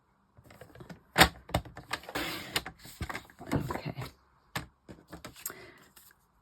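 A paper trimmer slices cardstock with a series of sharp, crisp clicks and sliding scrapes at close range. The bursts are irregular, with short pauses between cuts and no talking.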